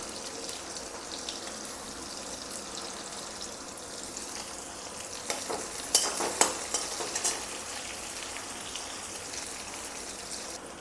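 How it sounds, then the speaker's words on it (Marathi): Sliced onions frying in a pan for spicy Maharashtrian roasted-eggplant bharit, a steady soft sizzle with a few brief stirring clatters midway and no talk. "आता कांदे टाकायचे."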